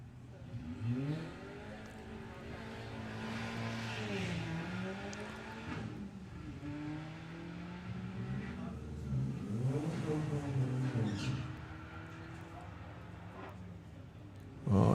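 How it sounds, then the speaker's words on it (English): An Audi TT accelerates hard down a drag racing strip at a summer nationals meet, its engine note climbing repeatedly through rising gear changes, loud and steady over the distant track ambience. "Going alongside number 1 qualifier, Dominic Crawford with the Audi TT"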